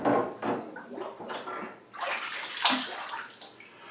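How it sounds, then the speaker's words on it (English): Water sloshing and splashing in a basin as a brass instrument slide is lowered back into it during washing, several irregular surges and gurgles, close and clear with no talking. "Once we snaked it out, we're going to put it right back into the water again."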